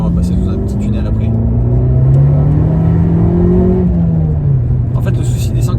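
Abarth 595 Competizione with 180 hp, its engine droning loud and close from inside the cabin, pitch rising and then easing off in a steady sweep, with a muffled burst of engine noise toward the end.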